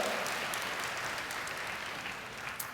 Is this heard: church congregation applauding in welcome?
yes